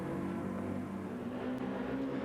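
A Ferrari race car in a racing game at Circuit de Barcelona-Catalunya holds a steady, loud, buzzing engine note throughout a short pass, with no talk over it.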